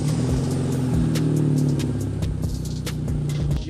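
A Genesis car idles after a start-up, its engine giving a deep rumbly exhaust note with a steady low drone close by and some slight revving.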